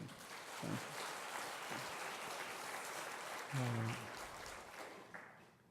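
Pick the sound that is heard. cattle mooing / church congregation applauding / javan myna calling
church congregation applauding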